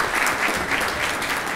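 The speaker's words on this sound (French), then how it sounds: "Alors applaudissez-vous." Steady applause from university students in Bambey, a dense crowd clapping continuously and fairly loudly throughout with no voices on top.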